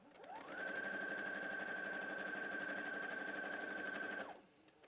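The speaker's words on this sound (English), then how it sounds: "So let's sew that. It's a brilliant, brilliant ruler. So I'm going to do a 1/4 inch seam allowance." A sewing machine stitches a quarter-inch straight seam, running up to a steady, even whir with a high motor whine for several seconds before slowing and stopping.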